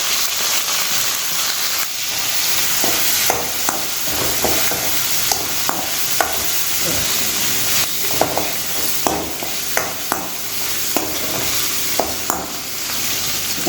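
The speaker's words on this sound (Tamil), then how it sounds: "சின்ன வெங்காயத்தை போட்டு மஞ்சள் பொடியும் போட்டு நல்லா கருவாடை வதக்கணும்" Shallots and dried fish with turmeric sizzle steadily in a hot pan while a spoon scrapes and clinks against it in irregular strokes.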